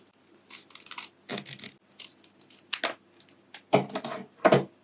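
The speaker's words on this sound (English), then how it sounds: "Now I think this tape is a little bit thick. I think this is about 1 inch, so what I like to do is just to cut it in half." A thick, roughly one-inch adhesive tape with a linen-like backing is cut in half lengthwise, heard as a close series of crisp snips and rustling bursts in an uneven rhythm, with no talking.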